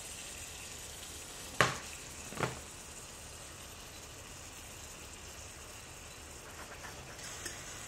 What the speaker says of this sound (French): on les déglace un petit peu avec l'armagnac